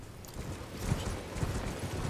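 Horse hooves clip-clopping in Elden Ring as the player rides across open ground, a soft rhythmic beat of footfalls under a steady ambient wash, fairly faint.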